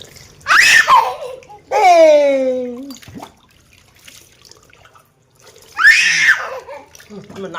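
Water is poured over people in a backyard pool at a family pool outing with twin babies, with brief splashy pours between bursts of talk and children's laughter, fairly close.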